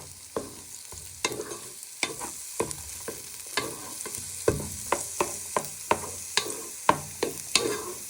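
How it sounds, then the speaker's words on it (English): Food fries in a pan while a wooden spoon stirs it, giving sharp wooden knocks and scrapes at an irregular, fairly steady pace over a soft sizzle. The stirring is close and quiet, with no talking. "You want these to fry for a few minutes using your wooden spoon so they bring some colour on them"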